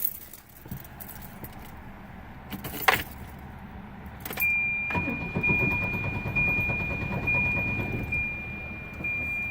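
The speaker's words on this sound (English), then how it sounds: "let me show you what happens when I try to turn the car on" A car's ignition is turned and the engine fails to start, with a key jangle and brief click, followed by a steady electrical hum and faint whine that continue for several seconds with no engine catching.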